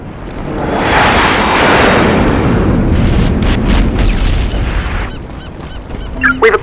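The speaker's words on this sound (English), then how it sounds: "Airstrike inbound." Airstrike in SOCOM 4 brings a loud, heavy rumbling blast that swells and rolls for several seconds, then breaks into scattered crackles and debris before fading.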